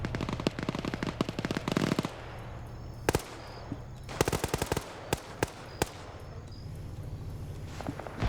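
Rapid bursts of automatic gunfire from an LAV vehicle in a tactical PvP shooter game, with dense fast volleys followed by scattered single cracks, loud and close with no talking.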